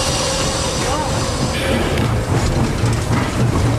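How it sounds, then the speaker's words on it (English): An SY 2-8-2 steam locomotive runs around a coal mine train at Tangshan, a loud continuous rumble of wheels and machinery close by, with rail squeal and clatter. "We're going to run around the train, get back on the other end of the train"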